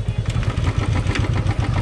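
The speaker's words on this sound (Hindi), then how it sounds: "इसको करते हैं स्टार्ट।" An old Royal Enfield Classic 350 single-cylinder engine runs close by, its rapid, even thump-thump idle beat steady and loud throughout the brief stretch.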